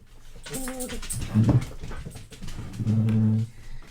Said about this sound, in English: a dog just came home